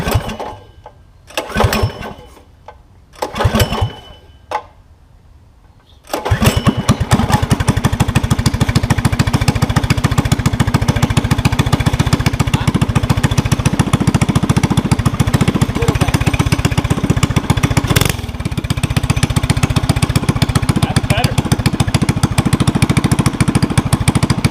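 A small go-kart engine, its carburetor fitted with a new 130 main jet, sputters through a few short cranking bursts, then catches and runs at a loud, steady idle close by with a rough, chattering pulse.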